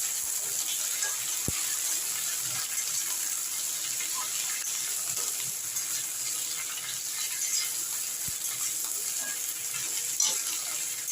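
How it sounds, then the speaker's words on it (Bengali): Eggplant and mixed vegetables fry in a pan with a steady soft sizzle, punctuated by a few light clinks of gentle stirring. "বেগুনগুলো দিয়েও আমি একটু হালকা হাতে নেড়ে নিচ্ছি।"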